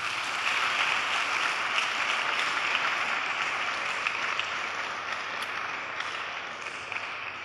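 Congregation clapping in a church, a steady dense wash of many hands that holds at an even level throughout, with no talk over it.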